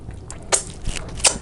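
Crisp, close crunches from biting and chewing a chocolate-covered cicada, a few sharp cracks spaced through a short stretch with quieter chewing between, no talking.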